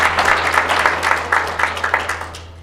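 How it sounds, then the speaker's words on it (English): Audience applause at a chapel service, a room of people clapping in uneven bursts that gradually thin out and fade over a few seconds. "If you all keep clapping, we'll never get out of here."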